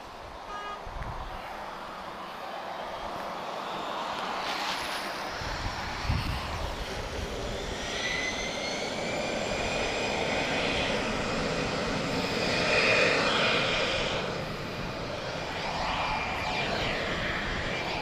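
An Airbus A320 jet takes off from Lisbon Airport bound for Madeira, a broad distant engine roar that builds gradually, peaks, then eases while staying steady, heard from afar with no talking.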